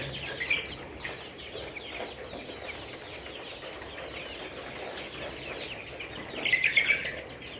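Layer hens on a poultry farm cluck faintly and steadily, with a louder burst of clucking near the end, over a quiet, hollow shed ambience.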